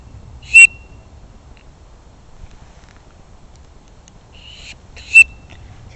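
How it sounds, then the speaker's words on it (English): Survival kit whistle blown twice, a short sharp shrill blast, then a pause before a second blast, outdoors beside a house and pond with faint background noise between. "Next we have a whistle"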